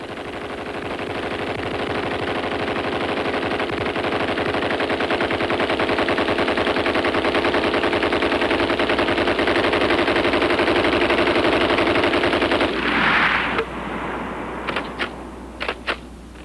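Browning machine guns firing a long, loud, sustained burst of rapid automatic fire, then a few separate single shots after it stops.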